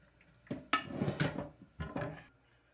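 Hot water drains from a cooking pot of trotters in a kitchen. Several soft clunks and splashing pours come close by and at moderate volume, in two short bursts with no talk.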